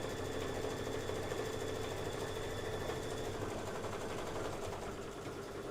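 An embroidery machine stitches a tack-down line on fabric, a steady dense mechanical whir with rapid needle rhythm running unbroken throughout at close range.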